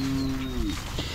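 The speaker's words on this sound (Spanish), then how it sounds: "¿Ver un toro enano?" A dwarf bull lows once, a fairly close, drawn-out moo that bends downward and fades near the end, heard outdoors on a farm in El Salvador.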